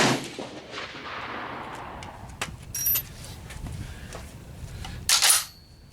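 A Springfield M1A rifle fired during a range test: one loud, sharp shot with a booming tail at the start, then quieter handling clicks, and another sharp report near the end.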